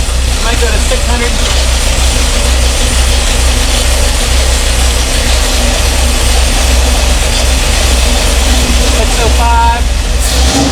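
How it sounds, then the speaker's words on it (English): A rebuilt Ford 390 V8 idles roughly near 500 RPM soon after its first start, a loud, steady low rumble with an uneven, lumpy beat running throughout, with a brief higher mechanical sound near the end. "I turned it back down to idle here. Seems like it's kind of angry about the idle."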